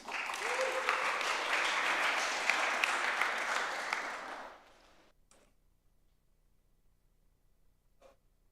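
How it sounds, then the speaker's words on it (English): A conference audience on a main stage applauds, steady and full for about four seconds, then the clapping drops away into near silence with a few faint scattered sounds. "So big round of applause,"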